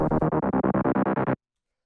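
A distorted, gritty synth stab in a hard melodic techno track pulses in rapid even repeats for over a second, loud and dense, then cuts off to silence before a brief return.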